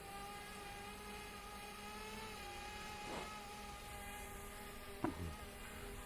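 An XK X450 RC aircraft descends slowly with the throttle down, its small motors giving a faint, steady whine with several sustained tones that drift slightly, plus a brief knock near the end, heard from a distance.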